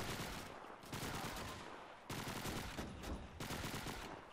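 Bursts of rapid gunfire in Call of Duty 2 rattle in long clustered volleys separated by brief gaps, sharp and dense like machine-gun fire, with no talking.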